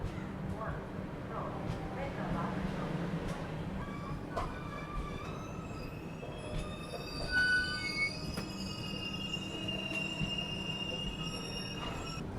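Kongu Express pulling out of Dhone Junction, a steady low rumble of rolling wheels with a few thin metallic squeals and tones over a continuous hum, with people talking nearby.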